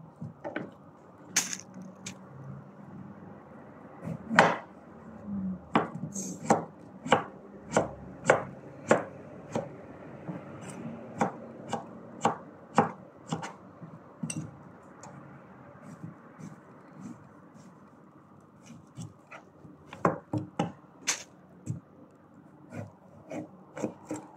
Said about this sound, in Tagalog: Iwain na po natin ito guys. Ito. Okay. Talong.